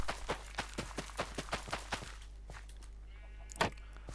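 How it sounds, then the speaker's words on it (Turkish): Sheep in the Minecraft video game, with a short bleat near the end that follows a steady run of soft rhythmic footstep-like taps, all faint and with no talk. "Koyunlar gelin buraya."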